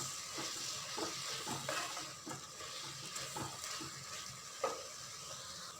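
Fresh coriander greens and stems sauté in a hot pan, a steady sizzle with repeated scraping stirs of the spatula, close and moderately loud, no voices.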